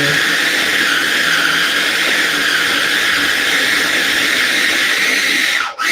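A kitchen blender chops eggs and avocado with a loud, steady whirring drone that runs almost unbroken, then cuts off abruptly at the very end.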